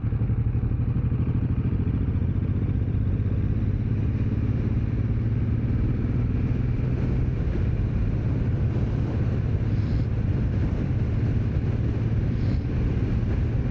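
A Suzuki M109R motorcycle cruises on a motorway at about 120 km/h, producing a constant loud roar of engine drone and wind rush that barely changes throughout.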